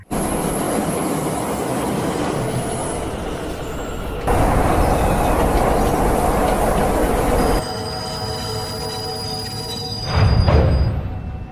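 A train rumbles steadily along the rails, its noise shifting in sections, with high metallic squeals from the wheels and a louder low thump near the end.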